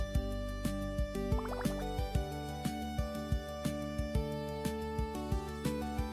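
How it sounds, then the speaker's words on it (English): Water collected in the video game Lunar Arboriculture, a steady rhythm of bright synthetic drip and plop sounds repeating roughly twice a second over a droning musical game soundtrack. "So we collect some water."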